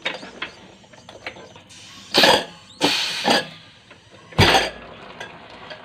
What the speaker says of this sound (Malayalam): ഇപ്പം നമുക്ക് കുക്കർ തുറന്ന് നോക്കാം